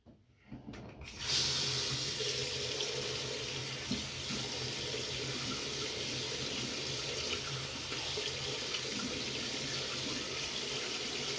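Water runs steadily from a tap during a rinse, a continuous close splashing hiss that starts after a second of near silence and holds at an even level throughout, with no talking.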